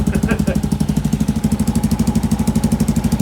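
A Honda motorcycle single fitted with a 143cc big bore kit and a new pipe, with no oil and a leaking header, runs at a steady fast idle, its loud close exhaust pulsing evenly throughout.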